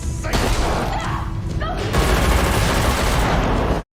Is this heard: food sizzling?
no